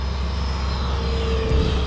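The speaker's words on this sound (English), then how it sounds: "This is just a fun jet to cruise around and just picture yourself flying in that puppy" An F-16 Falcon RC fighter jet flies overhead, its engine producing a loud, steady roar that holds constant with a slight rising whine toward the end.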